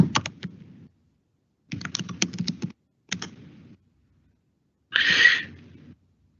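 Computer keyboard typing in bursts: three clusters of quick soft key clicks separated by pauses, then a brief breathy noise at the end, fairly close and with no talking.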